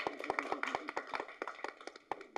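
Sparse, scattered hand clapping from a small audience at a film press meet: a short burst of uneven claps, fairly close and moderately loud.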